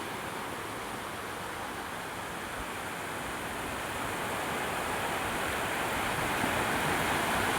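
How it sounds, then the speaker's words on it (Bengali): Surf of an incoming tide rolls onto the lonely, misty sand at Dakshin Purushottampur sea beach, a dense, steady wash of breaking waves that swells slightly louder toward the end, with no voices. "আর এখন জোয়ার হচ্ছে, জল উপরের দিকে আসছে, জোয়ার হচ্ছে"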